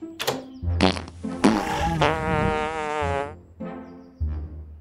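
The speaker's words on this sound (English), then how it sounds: "It is a fart box." A fart box toy lets out a few buzzy, drawn-out fart noises, close and loud, one long raspy blast in the middle flanked by shorter ones.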